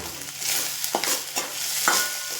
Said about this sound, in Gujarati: હવે મીઠું એડ કર્યું છે એટલે આપણું વેજીટેબલ છે ને ફટાફટ એકદમ તેલમાં ફ્રાય થઈ જશે